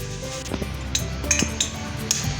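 A metal pan is handled on a kitchen stove before desi ghee is heated in it, several light clanks and clinks scattered over a couple of seconds, close and moderately loud.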